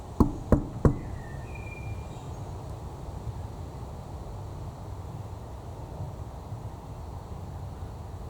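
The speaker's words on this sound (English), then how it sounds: "I am going to knock on the door" Three sharp knocks on a door at a graveyard, evenly spaced and close, are followed by a long quiet stretch of faint outdoor hiss with a brief chirp.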